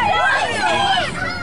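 A wrestling arena crowd jeers a heel wrestler, a loud, steady wall of booing and babble with voices warbling over one another and no break in the noise.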